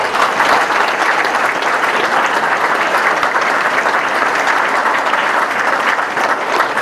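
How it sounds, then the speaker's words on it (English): Sustained applause from an audience at a high school senior awards program, a dense, steady wash of many hands clapping at a constant loud level with no talk. "I think these students deserve a round of applause."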